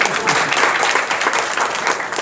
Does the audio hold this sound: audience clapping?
yes